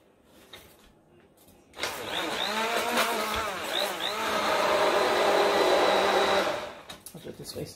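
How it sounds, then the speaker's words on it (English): An immersion blender whirs steadily for about five seconds while canned cabbage is processed in a bowl, loud and close, with a faint voice before it starts. "Use your immersion blender."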